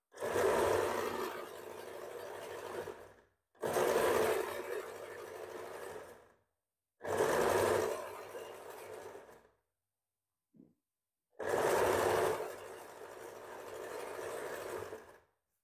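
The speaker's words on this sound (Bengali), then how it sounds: "তাহলে মেশিনে আগে সেলাই করে নিচ্ছি" A sewing machine stitches a blouse in four sustained runs of rapid mechanical whirring, each a few seconds long, separated by short pauses, close and moderately quiet with no talking.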